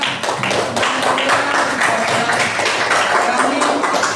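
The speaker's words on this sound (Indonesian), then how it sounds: "terima kasih tepuk tangan ya" Classroom applause from a group of students, with dense, steady clapping that carries on throughout under some voices.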